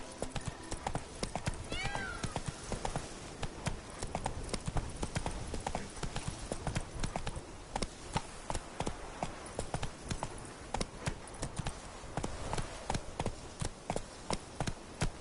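Steady clip-clop of a horse galloping in The Witcher 3, hooves drumming in a fast continuous rhythm close by for the whole stretch, with a brief whinny early on and a voice calling out now and then over the hoofbeats.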